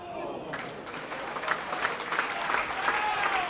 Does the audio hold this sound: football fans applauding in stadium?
yes